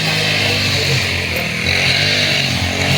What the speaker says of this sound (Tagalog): si Alvin may akong gibutang dito sa grass cutter